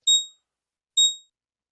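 A trading platform's chart alarm sounds two short, clean electronic beeps about a second apart, loud and isolated against silence.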